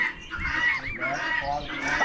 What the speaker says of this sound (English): Big pair of geese.